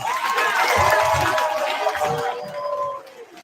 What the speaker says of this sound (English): Brothers and sisters, clap it up for the ancestors.